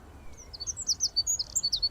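Birds chirp and tweet in quick, high, repeated bursts that grow busier toward the end, with a low background rumble beneath and no talking.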